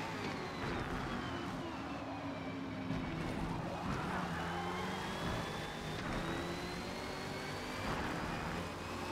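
A racing car in Forza Motorsport accelerating hard down a straight, engine note rising steadily with a continuous loud roar and rising whine throughout, no voices.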